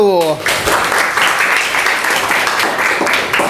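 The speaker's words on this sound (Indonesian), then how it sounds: "Ya, beri tepuk tangan untuk kelompok 1." A classroom of students applauds a group after its presentation, a steady wash of clapping that follows a brief voice at the start.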